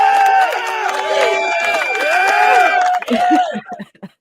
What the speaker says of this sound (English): We have to make sure you get your applause